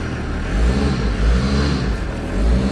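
A diesel caravan engine runs steadily with one wheel jacked up off the ground, giving a continuous loud low rumble with slight rises in revs and no talk.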